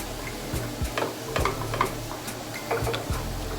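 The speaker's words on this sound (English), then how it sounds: "And let's stir this." Shrimp cauliflower rice being stirred in a pan, repeated scraping taps of a utensil at an irregular rhythm over a soft steady sizzle, close and fairly quiet.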